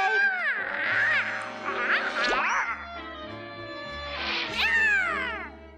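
A cartoon cat meows and yowls in loud, wavering cries, two long bursts separated by a brief pause, with low background music underneath.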